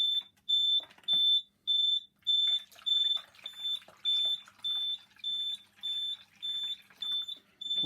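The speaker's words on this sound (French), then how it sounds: "l'appareil s'est mis à biper alors qu'on lui a remis de l'eau" A Expert Classic, Premium or Carbone steam appliance beeping after being refilled with water, sounding a regular series of sharp, high electronic tones about twice a second, alongside faint clatter and handling noise.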